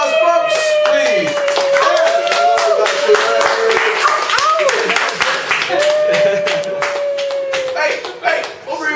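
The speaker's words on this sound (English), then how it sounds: "Hey, round of applause, folks, please!" Audience clapping and cheering at a live dating game show, close and loud throughout, with strong whistle-like cries and shouting voices mixed into the steady applause.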